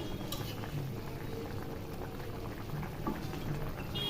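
Fish curry gravy of katla fish simmers and reduces in a pot, a dense, even bubbling that stays fairly soft and unbroken, with a faint tap or two near the end.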